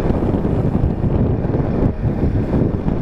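Strong wind buffets the microphone in a loud, continuous roar at a campsite in Norzagaray, Bulacan, steady throughout with no voices.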